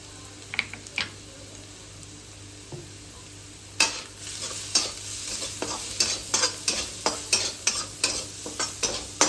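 Egg frying in a pan with black pepper, cumin powder and salt, quiet sizzling at first, then a run of regular scraping stirs with a spatula, close and moderately loud.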